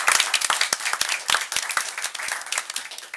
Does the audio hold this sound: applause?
yes